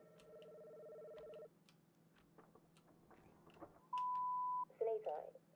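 A video game telephone gives a steady electronic tone, goes quiet with soft ticking, then sounds a short beep and a warbling ring, all faint and without speech.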